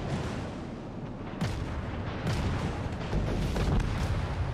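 Battleship guns firing in World of Warships Legends, a dense rumbling wash of heavy booms with several sharp onsets, loud and continuous, no speech.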